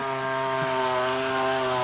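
A chainsaw drones steadily in a valley on St Helena, a loud continuous buzzing whine that holds an even pitch throughout with no voices.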